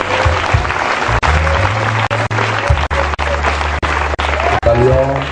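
A church congregation at an international convention service claps to acclaim the Lord, a dense, sustained wash of applause over steady low music, briefly broken by short gaps.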